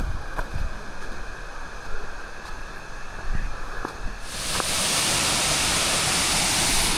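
A waterfall in northern Thailand gives a steady rushing roar. It sits fairly distant at first, then swells into a loud, close, continuous wash of falling water.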